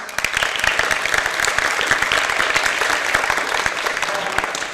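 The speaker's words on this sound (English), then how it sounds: "let's give you guys a round of applause" Sustained applause from a crowd at a softball team welcome-home gathering, honoring parents and sponsors; dense, steady clapping fills the whole stretch at an even, loud level.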